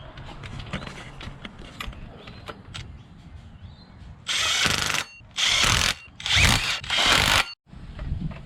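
Four loud, separate bursts of an impact wrench rattle a V6 Holden Commodore's front water pump pulley bolts tight, each burst about half a second long. Clicking and handling noises come before them.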